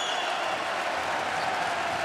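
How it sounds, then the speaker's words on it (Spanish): Ironic applause from the home crowd in a basketball arena during a Spanish ACB league game, Obradoiro against Gran Canaria, a steady, moderately quiet patter of clapping spread across the stands with no voices on top. "Aplaude irónicamente a falta a bancada do SAR"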